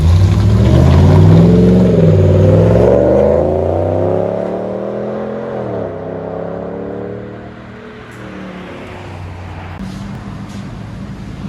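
A 2019 Ram 1500 with a 5.7-liter HEMI V8 and a Flowmaster exhaust on stock converters revs loudly and close by, its pitch rising and then falling away into a deep, steady idle rumble.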